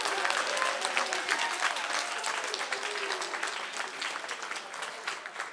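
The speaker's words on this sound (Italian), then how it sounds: "chiederei un applauso anche per loro" Audience applause at an Italian youth event, a burst of crisp, close clapping that gradually thins and softens over about five seconds.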